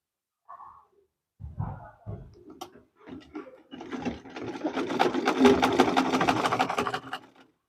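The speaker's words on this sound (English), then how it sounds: "Then you will stitch. You will stitch it down." A sewing machine stitches down the joint of a Queen Anne dress neckline, with a few short handling taps and bursts first, then a steady, close, rapid run of stitching lasting several seconds before stopping.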